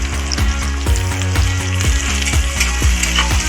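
Onions frying in hot oil with cardamom and whole spices, a steady loud sizzle broken by regular scraping strokes of a spoon stirring the pan about twice a second.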